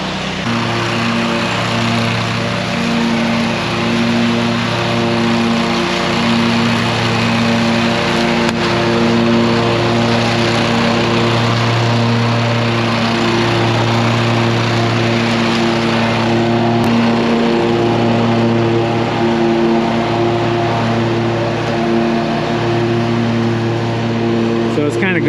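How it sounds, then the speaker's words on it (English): A lawn mower engine drones steadily and loudly while mowing grass outdoors on a hot day, a continuous close hum with slight shifts in pitch throughout. "I told him go ahead and mow this one out"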